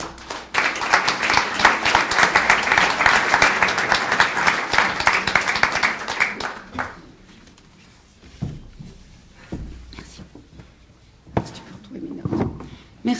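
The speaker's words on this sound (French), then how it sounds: "Merci de l'applaudir, Bénédicte Couvrin." Audience applause at an arts and technology conference gathering, a burst of dense clapping for about six seconds that fades out, followed by scattered knocks, shuffling and brief voices.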